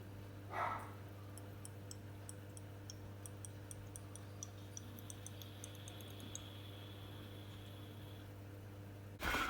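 Water drips into the last chamber of an aquarium drip-water-change setup with RO water, making a steady run of small, faint ticking drops over a low electrical hum, with a louder knock near the start and end.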